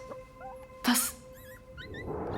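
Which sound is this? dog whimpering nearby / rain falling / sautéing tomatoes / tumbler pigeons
dog whimpering nearby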